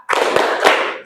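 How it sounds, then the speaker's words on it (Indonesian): A classroom of students doing a rhythmic spirit clap together, a loud burst of group clapping with a few distinct accented beats over a little more than a second. "Tepuk semangat."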